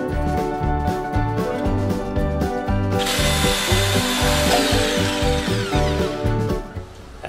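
Cutting wood for an L-shaped bench seat with a slower, straighter-cutting power saw rather than a jigsaw, a steady pulsing motor drone, loud and close, with the cut growing harsher partway through.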